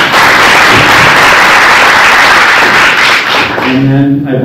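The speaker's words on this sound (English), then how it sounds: "but if we could applaud for her." Loud, dense applause from a school board meeting audience honoring a student, sustained clapping that fades near the end as a voice begins speaking.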